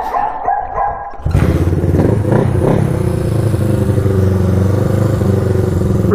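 A Honda CB360 motorcycle, found abandoned in a storage unit and run without air filters, fires up on its first start attempt and keeps running with a loud, steady, lumpy idle. A dog barks nearby.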